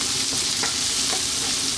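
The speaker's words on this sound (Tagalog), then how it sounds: "So in some hot oil, as you saw, garlic, ginger, onions, 60 to 90 seconds." Garlic, ginger and onions fry in hot oil over high heat for a sweet chilli crab sauce, a steady close sizzle with a few soft stirring scrapes, no voices.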